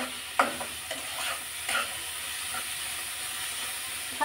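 Leafy greens (shak) fry in a pan with a soft continuous sizzle, broken by several spatula scrapes and taps as they are stirred.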